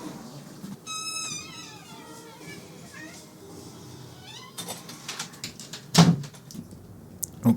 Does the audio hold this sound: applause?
no